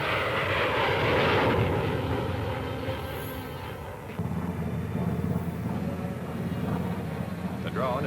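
An F-102 jet fighter carrying Falcon missiles roars steadily overhead in a broad, continuous engine drone that swells early and then holds at a lower level.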